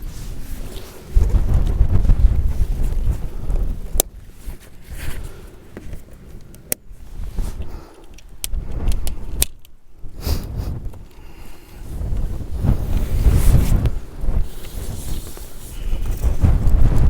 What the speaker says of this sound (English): It's going to be a bit windy